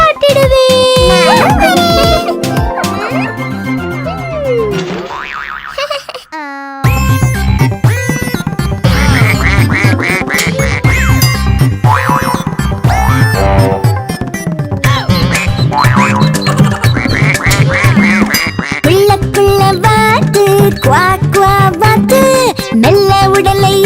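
A playful Tamil children's song with bright instruments and cartoon duck quacks woven through the music, loud and busy, pausing briefly before resuming.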